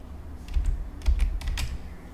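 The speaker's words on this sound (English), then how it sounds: "So I'm going to type Lunchbox" A few keystrokes on a computer keyboard, typed in short clusters with brief pauses, fairly close against a low background hum.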